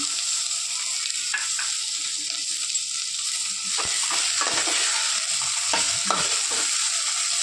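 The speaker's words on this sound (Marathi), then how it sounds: "ते पण भाजून घेणार आहोत एक टमाटा लसूण" Tomato and garlic roasting in oil in a pan, a constant close sizzle with repeated scraping stirs and light clinks of a utensil against the pan, no voices.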